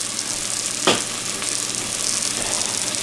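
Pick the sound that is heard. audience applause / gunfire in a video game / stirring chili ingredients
stirring chili ingredients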